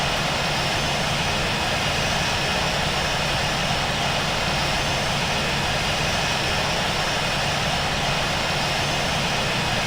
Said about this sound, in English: Both the engines are running anyway.